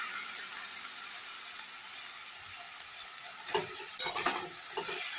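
Potatoes and spinach fry in oil in a wok in a village kitchen, giving a steady soft sizzle with a few louder bursts of stirring and scraping near the end.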